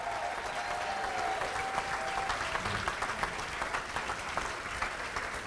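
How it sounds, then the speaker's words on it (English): Sustained crowd applause for inductees at the New Orleans Saints Hall of Fame ceremony, steady and even clapping from a large audience with a faint whistle near the start. "How about one more round of applause for Lance Moore, Pierre Thomas, and Michael C. Hebert."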